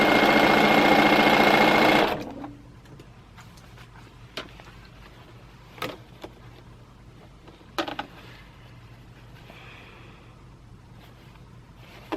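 A sewing machine runs at a loud, continuous close hum while stitching a quilt center for an African Shuffle quilt kit, then stops abruptly, leaving quiet handling noises and a few soft clicks.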